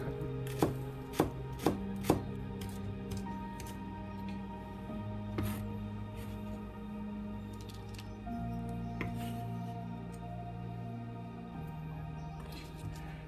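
A knife chops pork into small pieces on a board: four quick sharp strikes at the start, then quieter irregular cutting and tapping over a low steady hum.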